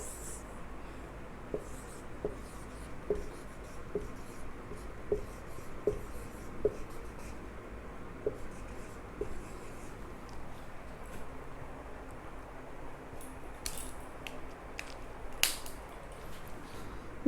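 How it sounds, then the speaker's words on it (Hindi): Pen or pencil writing numbers on paper during a class 5 maths lesson, a steady run of soft scratching strokes and small taps, close and fairly quiet, with no talk over it. "और एक लिखते हैं,"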